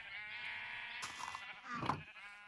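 A sheep bleating in the video game Minecraft, a clear wavering bleat followed by a second shorter one, fairly close and alone.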